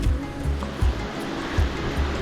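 A mountain stream with a waterfall roaring nearby on a South American trek, heard as a loud, continuous rushing wash of water, close and steady.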